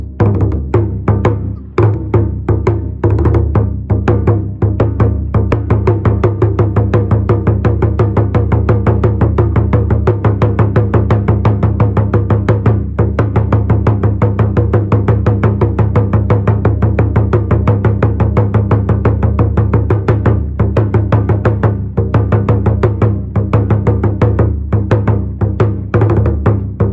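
Japanese taiko drums playing Yatai Bayashi, opening with the shime drum, a dense continuous rumble of rapid heavy drumming with a strong low boom throughout, loud and unbroken.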